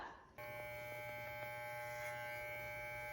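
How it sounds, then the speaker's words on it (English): Electric hair clippers with a number 1 guard switch on and run with a steady, close, fairly faint buzzing hum that continues to the end. "I'm going to start with the number 1 on my clippers"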